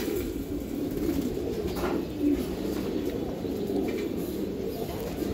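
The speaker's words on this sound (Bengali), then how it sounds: "এখানে এক জোড়া কবুতর আছে, এটা হলো লাল খাকি কবুতর" A pair of red khaki racing pigeons coo softly and repeatedly at close range, their low rolling calls continuous over a faint background hum, with no talking.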